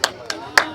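Hands clapping at a juice bar launch event as a leader is welcomed, three sharp close claps spaced unevenly within a fraction of a second, with voices in the background.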